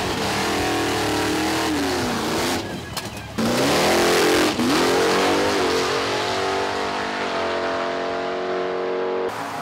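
A drag race car makes a test run at Atco Dragway, its engine revving hard and climbing through loud rising sweeps before a steady, sustained roar.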